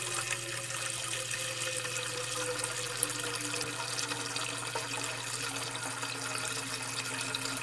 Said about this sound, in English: I'm going to go ahead and put some water in a pot